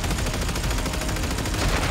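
Mounted guns fire in the Warframe video game in a dense, unbroken barrage of rapid shots. The roar stays loud and close for the whole stretch, with no talk.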